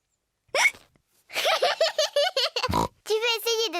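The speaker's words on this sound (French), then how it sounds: "Le hoquet de Georges les empêche de jouer." George Pig, the cartoon piglet from Peppa Pig, hiccups sharply several times, with squeaky childlike cartoon voices chattering between the hiccups.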